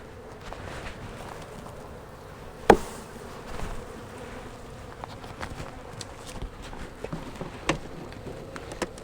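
A steady, low hum of many honeybees buzzing up close at an open hive, continuous throughout, with a brief sharp knock partway through and a few light taps.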